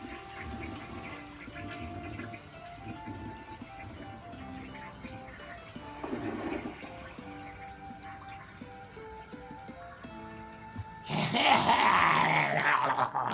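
A toilet flushes with a sandwich in it, a sudden loud rushing gurgle of water that surges near the end, after quieter mixed background sounds.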